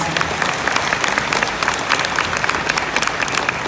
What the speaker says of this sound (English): Yeah, so that definitely deserves applause.